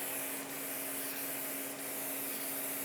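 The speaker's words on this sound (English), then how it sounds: "by limiting the amount of paint coming out of the airbrush" An airbrush sprays paint onto a quarter-scale Aquaman figure with a steady, even hiss of air and atomised paint, close and continuous with no talk.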